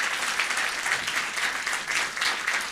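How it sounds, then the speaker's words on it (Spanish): A church congregation applauds the musicians at a Sunday service, brief steady clapping from a moderate distance with a pulsing rhythm of many hands, fairly soft overall. "Un aplauso más, por favor,"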